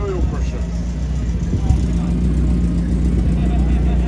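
A race car engine idles close by with a steady low rumble and a slight uneven pulse, holding a constant level throughout while faint voices sit underneath.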